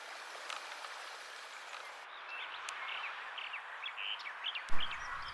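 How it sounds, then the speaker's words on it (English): A stream rushes at a beaver dam, a steady broadband wash of flowing water up close, with a few small chirps and drips scattered over it. "The rushing of the water in the stream indicates a beaver dam."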